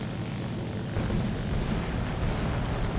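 The piston engine of an A7M1 (NK9H) fighter aircraft in War Thunder, a steady, loud propeller drone that swells slightly about a third of the way in and then holds, with no talking.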